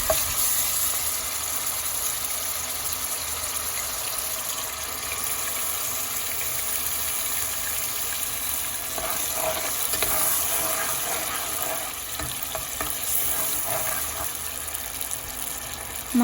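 Onions fry in a pot with a continuous, even sizzle and a watery bubbling hiss. Partway through, a spoon stirs them with a run of soft scraping strokes, all close and with no voices.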